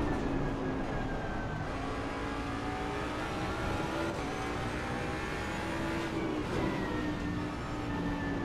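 A Jaguar racing car engine in a racing video game drones steadily at high revs, a constant buzzing whine with slight pitch shifts, heard alone without any voices.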